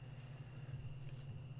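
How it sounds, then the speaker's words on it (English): Crickets chirp steadily around a house at night, a continuous high trill with a constant low hum beneath, quiet and unbroken with no voices. "right now I got crickets around the house, so you can hear them probably right now"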